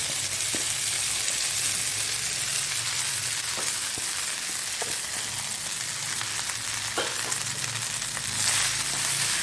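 Leftover rice tossed with dried red chillies and curry leaves for puliyodharai, stirred in a hot pan: a steady, even sizzle throughout, with a few soft spoon scrapes and knocks.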